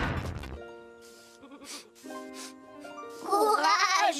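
Cartoon sheep bleat in a quavering, harmonic voice across several calls, rising to a louder, more agitated burst near the end, with brief crash-like noise at the start.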